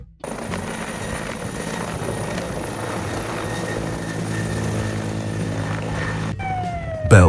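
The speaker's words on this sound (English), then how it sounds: "Bell 412, a highly maneuverable helicopter often used for firefighting and rescue operations." A Bell 412 firefighting helicopter flies with a steady, broad rotor and engine roar that holds at constant loudness for several seconds, then swells louder near the end as it closes in.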